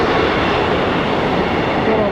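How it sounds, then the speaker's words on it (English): A passing train by the sixth hole of the West Cornwall golf course in Cornwall, heard as a steady, loud broadband rumble that stays even throughout, with no distinct clacks standing out. "Here comes the train."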